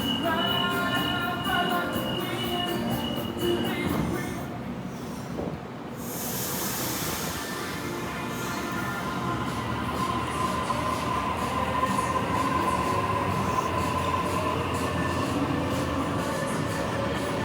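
A train pulls into North Sydney station with a loud, steady rumble of rail cars, a brief hiss of air and high wheel squeal, all heard close from the platform.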